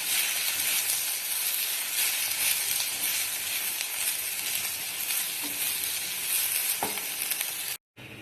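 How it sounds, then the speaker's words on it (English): Rice fries in a pan for chicken tahiri, giving a close, constant crackling sizzle with light stirring scrapes, which cuts out briefly just before the end. "Then I'm going to add the rice. This also needs to be fried."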